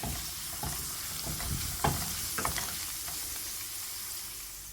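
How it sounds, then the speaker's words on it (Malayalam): A pan sizzles steadily while a spatula scrapes and stirs masala for chicken biryani, with a few sharp clinks of metal against the pan. "എല്ലാം ചേർത്തിട്ട് വീണ്ടും വഴറ്റിയെടുക്കുക"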